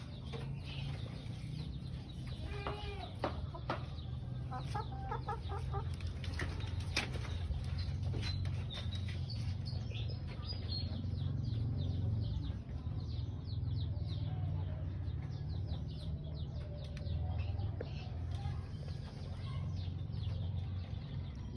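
Sussex and Rhode Island chickens clucking in a backyard, with faint soft clucks over a low steady hum and a quiet ambient background.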